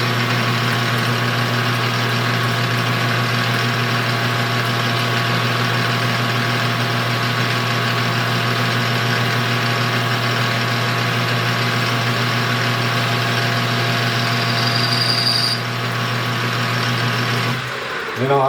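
A small lathe cutting a 50 tooth gear runs with a steady motor hum and constant machining drone throughout, loud and close, with a brief shift in tone near the end and no talk.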